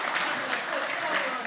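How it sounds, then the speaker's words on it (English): Brief burst of office applause for a new colleague at a company all-team meeting, a small group clapping steadily at moderate volume. "Round of applause for Michael."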